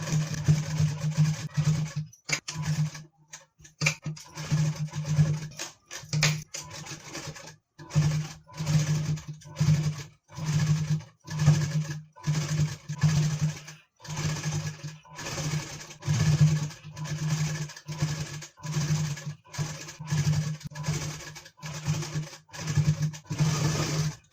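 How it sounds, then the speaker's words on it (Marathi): A sewing machine runs double stitching along lace on a blouse, its motor whirring in bursts of varying length with brief pauses between runs, close and steady, no voices. "या बाजूने मी डबल शिलाई करत आहे"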